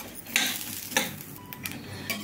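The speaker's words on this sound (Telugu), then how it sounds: "ఇప్పుడు దీంట్లోనే ఎల్లిపాయలు, కొంచెం కొబ్బెర, ఇవి కూడా 1 నిమిషం పాటు వేయించుకుందాము" Shallots and grated coconut fry lightly in a pan while a metal spatula scrapes and clinks a few times against the pan over a soft sizzle.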